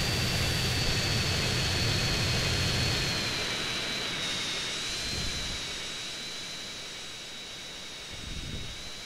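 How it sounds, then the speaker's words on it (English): Steady roar and high whine of a jet plane's engine in the video game GTA San Andreas, loud and continuous, slowly easing off with faint low rumbles, with no talk. "This is Jet 327. This is just a test flight."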